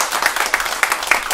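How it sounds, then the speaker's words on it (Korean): Short burst of audience clapping in an old bookstore after a jazz band performance, a small crowd applauding steadily at close range with a few sharper claps standing out. "관계자분과 저희 촬영 감독님께도 힘찬 박수 한번"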